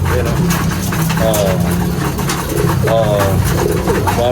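Pigeons coo repeatedly close by, soft throaty calls recurring in a loose rhythm over a constant busy background, with voices talking throughout.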